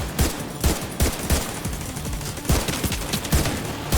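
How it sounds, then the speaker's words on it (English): Rapid automatic turret gunfire in the shooter Division 2, with dense, repeated bursts of shots cracking close and loud throughout, with no talking over them. "Looks like the turret's really good at shooting through bosses' armor."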